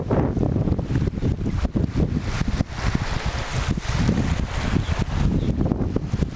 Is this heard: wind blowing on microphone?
yes